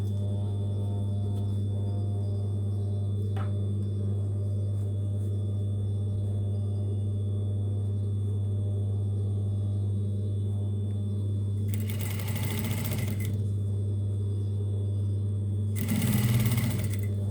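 A sewing machine stitching a fabric dress cover hums steadily close by, with two short, louder rattling bursts of fast stitching near the end.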